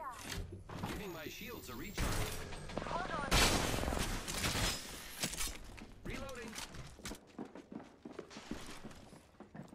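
Gunfire in the video game Apex Legends rings out in sharp bursts and volleys, mixed with other game effects and a player talking over the action.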